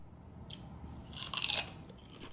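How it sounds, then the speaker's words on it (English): Close crisp bites and chewing of a Fly By Jing chili crisp salmon skin snack, a few sharp crunches clustered together in a quiet room. "Just listen to that crunch."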